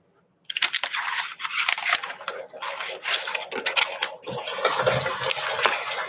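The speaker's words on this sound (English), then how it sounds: "if you guys can hear the water, that's just my sump pump outside" Water from a sump pump outside splashes and gurgles in an irregular, close rush with scattered clicks and taps, starting abruptly and continuing unevenly throughout.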